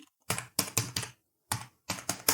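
Keystrokes on a computer keyboard while entering text into Microsoft Word, arriving in two quick bursts of clicky taps separated by a short pause, close and clear with no talking.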